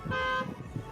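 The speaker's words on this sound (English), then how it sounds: "And that is my alarm. It is 5 o'clock." A short electronic alarm goes off at five o'clock, a bright tonal beeping tone held briefly then pulsing in repeated bursts, fairly close and moderately loud, with no talk over it.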